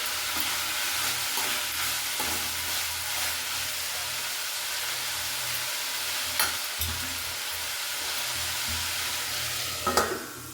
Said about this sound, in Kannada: ಆಲೂಗೆಡ್ಡೆ ಕೂಡ ಕುದಿಯಿದೆ ನೋಡಿ